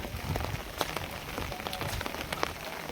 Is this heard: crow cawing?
no